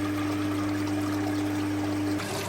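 Water trickles steadily into a koi quarantine tank, a constant close wash of flowing water over a low pump hum.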